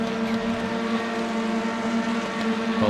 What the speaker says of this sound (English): And they are revving up.